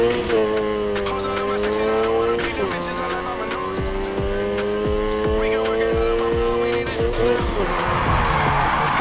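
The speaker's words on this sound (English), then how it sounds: "First up, let's hit a basic drift. Remember, slam on the gas and steer." Tires screech through a long drift in the racing game Need for Speed Heat as the engine roars and rises in pitch, with repeated gear-shift dips and a noisy slide near the end.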